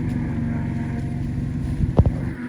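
A machine grinding animal feed corn drones loudly and steadily close by, with a few sharp clunks near the end.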